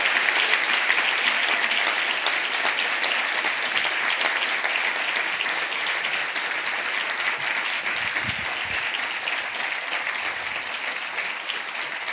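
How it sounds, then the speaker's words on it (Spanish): A church congregation claps loudly and steadily, a thick wash of applause from many hands that holds at an even level without pause. "Aplauda al Rey de Gloria."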